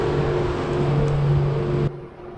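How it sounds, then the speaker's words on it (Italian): A boat passes close by in Venice, a steady motor drone with a low engine hum, then cuts off abruptly near the end, leaving quieter background. "C'è una barca che passa ora."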